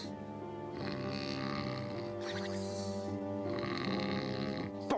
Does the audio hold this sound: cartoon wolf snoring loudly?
yes